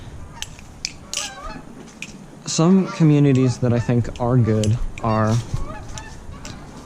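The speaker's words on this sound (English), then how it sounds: "sorry for the noise, there's some geese flying overhead." Someone talks close to the microphone while geese flying overhead honk in the distance, several calls overlapping as they pass.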